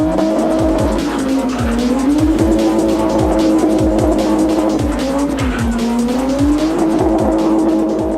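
Car tires squealing hard at a car meet, a loud continuous screech that wavers in pitch over a roaring engine, with repeated skidding sweeps throughout.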